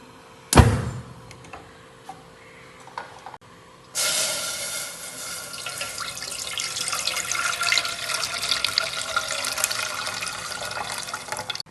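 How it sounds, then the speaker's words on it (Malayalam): A sharp knock, then after a few seconds a steady rush of a glass of water poured over china grass starts and continues, loud and close. "അത് കുതിർത്ത് വെക്കാൻ വേണ്ടി 1 ഗ്ലാസ് വെള്ളം ഒഴിച്ചു വെക്കുന്നുണ്ട്."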